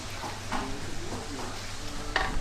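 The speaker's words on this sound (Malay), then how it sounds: "Masak dia atas dapur ni dengan ketumbak-ketumbak tu sekali." Coriander seeds frying in a pan on a stovetop, giving a steady close sizzle with stirring scrapes and clinks recurring throughout, no voices.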